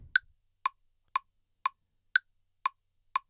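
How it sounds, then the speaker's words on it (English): Steady metronome clicks from Ableton software, seven evenly spaced ticks about twice a second, crisp and alone against silence. "There should be a metronome sound"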